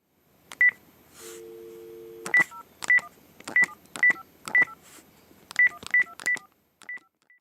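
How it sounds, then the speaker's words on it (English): A telephone number is dialed in a string of short, clear DTMF beeps at an uneven pace, with a brief steady tone partway through and faint room noise between the presses. "He's dialing a number."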